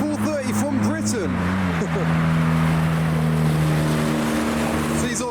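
Modified cars, including a Golf GTI and a BMW M1-series with pops and bangs from the exhaust, driving past at a car show in Belgium; engine drone with revving pitch sweeps and crackles, people talking over it.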